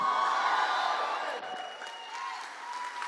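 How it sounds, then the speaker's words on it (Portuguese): A church congregation at a Sunday family evening service shouts and claps in a sustained, roaring crowd noise, loud and steady, with scattered whoops rising through it. "Quem recebe dá um grito de libertação."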